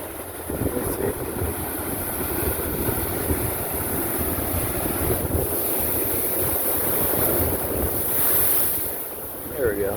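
Big ocean waves crash and splash against a sea cliff, a continuous roaring surge with wind buffeting the microphone and a brief louder swell near the end, no voices over it.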